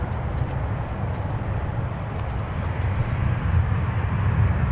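Boeing 737 Next Gen airliner taking off at Minneapolis–Saint Paul airport, a steady broad jet engine roar heard from a distance, swelling slightly toward the end.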